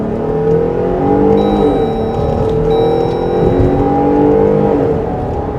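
A 2024 Jeep Grand Cherokee L Summit Reserve with its 3.6-liter V6 accelerates hard from a stop, engine note rising in steady sweeps as it climbs through the gears, loud and close from inside the cabin.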